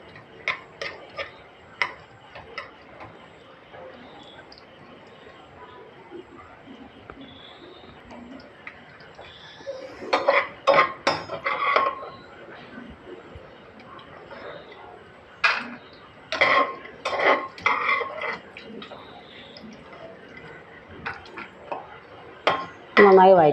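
Nuts and coconut pieces stirred in hot ghee inside a cooker: sparse metallic spoon taps and scrapes against the pot, growing into clustered bursts of clinking later on, with a voice now and then.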